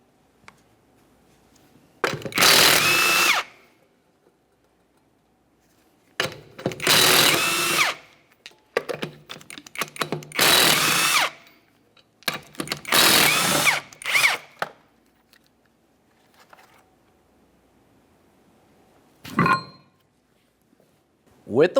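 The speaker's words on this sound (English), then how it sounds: "Continue on to removing all four of your 19mm lug nuts" An impact wrench or power tool zips off the 19mm lug nuts on a 1994–1997 Honda Accord rear wheel, firing in four or five loud short bursts separated by pauses, with faint clinks in between.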